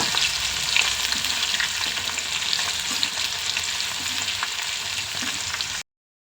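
Boiled corn kernels sputter and crackle in hot oil: a dense, steady, close sizzle with scattered sharp pops that runs without pause, then cuts off abruptly.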